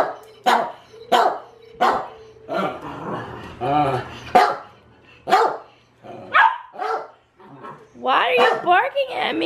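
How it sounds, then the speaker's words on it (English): A dog barking close by in a house, a series of sharp loud barks with yips and whimpering whines in between, spaced irregularly over several seconds. "Why are you barking at me?"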